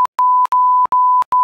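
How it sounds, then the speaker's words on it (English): A censor bleep from a gaming session: a steady tone of around 1 kHz played as several loud, evenly repeated short beeps, each cut cleanly before the next, with no talk. "There's just gonna be like a"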